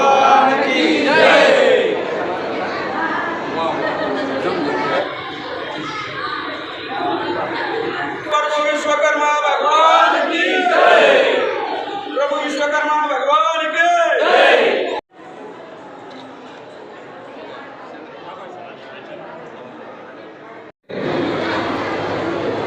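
A crowd at a Lord Vishwakarma Jayanti celebration chants a devotional slogan together, loud and dense with overlapping voices for about fifteen seconds, then drops to a quieter murmur before swelling again at the end.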